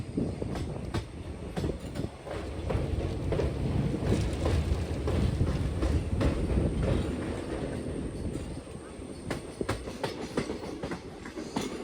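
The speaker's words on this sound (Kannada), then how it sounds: "ತುಂಬ ಜನ ಕೇಳ್ತಾ ಇದ್ರು ನನಗೆ ಸಕಲೇಶ್ಪುರದಿಂದ ಕುಕ್ಕೆವರೆಗೂ ಟ್ರೈನ್ ಜರ್ನಿ ಹೆಂಗಿರುತ್ತೆ ಅಂತೇಳಿ." A passenger train running through the hills between Sakleshpur and Kukke Subramanya in Karnataka, with a steady rumbling roar and rhythmic clickety-clack of wheels over rail joints, loud and continuous with no talk.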